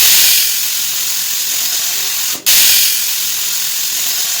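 A pressure cooker vents steam after its whistles, with the gas turned off. A loud, continuous hiss rushes out, dips briefly for a moment, then carries on just as strongly.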